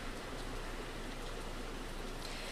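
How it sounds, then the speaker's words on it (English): Heavy rain pouring down in the historic town of New Bern during a tropical storm, a steady, dense broadband hiss that holds constant with no distinct drops or voices. "heavy rain continues to come down in historic New Bern"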